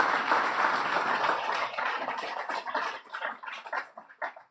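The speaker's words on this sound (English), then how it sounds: "You could give these scholars a big round of applause because they sure do deserve it." A room full of people clapping for scholars at a government event, moderately loud at first and then thinning into scattered, fading claps.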